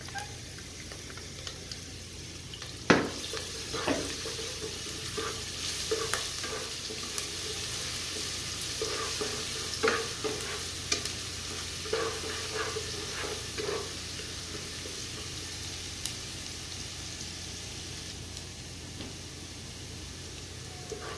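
Ginger-garlic paste fries with onions in a pan, a soft continuous sizzle broken by scraping stirs and occasional utensil knocks, with no talking.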